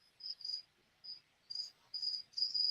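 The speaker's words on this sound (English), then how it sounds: "I love that cricket. That's a good background." A cricket chirps in the background in short repeated trills, faint but clear against an otherwise quiet room, with no talking.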